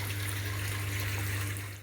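Water rushes in a steady, unbroken flow while fish tanks in a recirculating aquaculture system are drained and refilled, with a constant low pump hum underneath and no voices.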